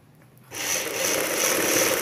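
An electric sewing machine starts up after a brief quiet moment and runs at a steady, continuous hum while stitching a front V neck on a garment, close and fairly loud, with no talking.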